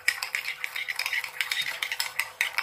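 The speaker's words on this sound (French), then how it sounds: "Voilà. On mélange." A spoon or whisk stirs egg yolk with mustard and brown sugar in a bowl for a homemade sauce, giving a run of quick, close scraping and clicking strokes with no talking.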